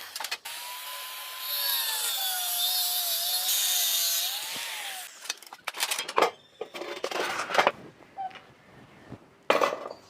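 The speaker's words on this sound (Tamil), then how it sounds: "அதை மட்டும் அப்படியே கட் பண்ணி தனியாக எடுத்துக்கலாம்." A power saw cuts through a metal bicycle frame tube with a steady whining drone that rises and falls in pitch, then gives way to scattered clanks and scraping knocks of metal being handled.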